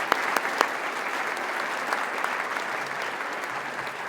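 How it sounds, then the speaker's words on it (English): Steady applause from the audience at a grant breakfast, a dense, even wash of clapping hands that holds at moderate volume throughout, with a few sharper claps near the start. "would you give them a round of applause too"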